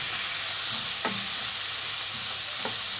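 Finely chopped onions fry in a pan for potato bonda, a constant close hiss and sizzle with a couple of brief scraping stirs of a spoon against the pan.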